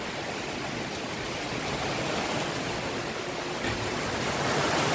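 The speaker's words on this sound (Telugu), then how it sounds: "ఇంత గాలి వేయటం నేను ఎప్పుడు గమనించలేదండి" A dense, roaring wash of wind and heavy rain fills the air continuously, steady and loud without pause.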